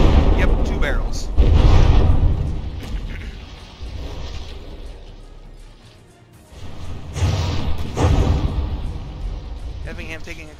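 Heavy shell impacts and booming hits pound battleships in the From the Depths naval combat game, with loud, dense crashes and explosions that swell, dip and return, while a commentator talks over the battle.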